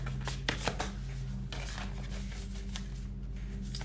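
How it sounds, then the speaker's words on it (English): Oracle cards being shuffled close by, a series of soft riffling and flicking bursts over a steady low hum. "Go ahead and shuffle 1 or 2 more times."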